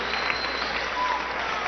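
Applause from a theatre audience at an anniversary event with circus performers and jugglers, a steady dense clapping that fills the short stretch without a break.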